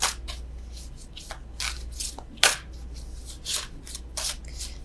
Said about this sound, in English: I don't know why I'm still shuffling these.